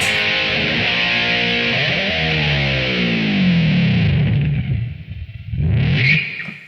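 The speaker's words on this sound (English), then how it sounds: "slam on the flanger for that dive bomb" A distorted electric guitar dive bomb with heavy flanger swoops downward in a swirling, whooshing sweep and rumbles low, then cuts out briefly before a short high squeal returns at the end.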